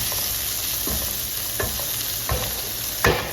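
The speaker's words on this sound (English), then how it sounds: "now we are going to add in some onion into this, give it a nice mix" Onion is mixed into food frying in a pan, a steady hiss underneath a handful of spaced scrapes from the utensil, the last one the loudest.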